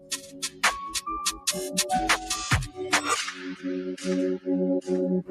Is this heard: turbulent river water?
no